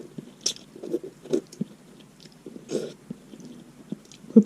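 Crunchy kerupuk crackers in spicy seblak noodles being bitten and chewed up close, irregular crisp crunches and soft mouth sounds in short bursts separated by quiet pauses.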